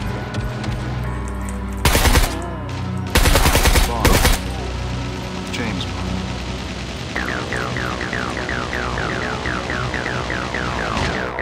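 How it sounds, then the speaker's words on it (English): Warning shots fired in the video game SCUM, a few loud bursts of gunfire cracking out near the start while a steady engine hum and a repeating chirping alarm carry on underneath. "He's giving you warning shots."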